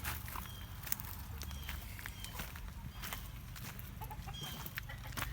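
Chickens of mixed breeds, including a Barred Rock mix, cluck softly in an outdoor coop amid scratching footsteps, fairly faint and continuous under quiet background noise.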